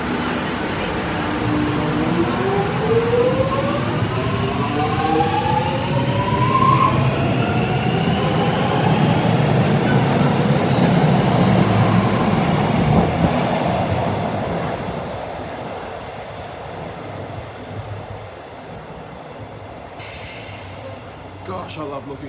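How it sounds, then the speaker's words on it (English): A Melbourne Metro subway train rumbles loudly through an underground tunnel near Flagstaff station, wheels squealing and rising in pitch, the roar gradually easing toward the end. "Gosh, I love looking at a train go through a tunnel."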